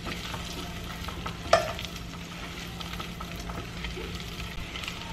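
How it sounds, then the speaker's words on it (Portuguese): Sliced calabresa sausage frying in butter gives a continuous close sizzle with fine crackle, and a single sharp utensil knock stands out early. "Agora eu vou deixar essa linguiça aqui, ó, fritar."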